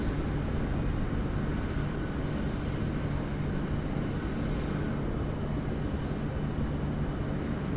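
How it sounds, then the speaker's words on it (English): A Jetstar airliner lands on the left runway at Sydney Airport, a steady, dense roar of jet engines rushing continuously without a break, heard from a distance. "that Jetstar landing there"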